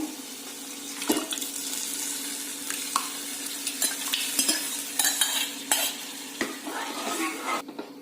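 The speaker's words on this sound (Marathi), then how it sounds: "त्याच्यानंतर 2-3 मिनिटांनंतर आता आपण डाळ ओतूया" Cooked dal being poured into a hot pan of turmeric-tempered oil for Konkani-style godi dal, with a steady sizzle and wet stirring scrapes and knocks throughout, no talking.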